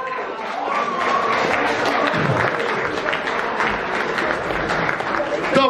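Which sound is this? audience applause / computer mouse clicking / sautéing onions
audience applause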